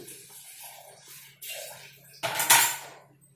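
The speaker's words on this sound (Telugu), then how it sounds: "పప్పు ఉడుకుతుంది ఇప్పుడు టమాటాలు కూడా వేసేసుకుంటున్నాను నేను" Tomatoes go into a pot of cooking spinach dal with soft clinks and scrapes of a utensil against metal, then a louder, brief clatter near the end; close, with no talking.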